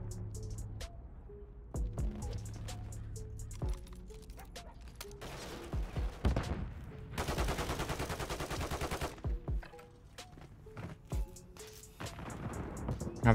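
A teammate firing in Modern Warfare 3, heard as rapid automatic bursts and scattered single shots over steady game ambience, with a dense sustained volley in the middle and more pops toward the end.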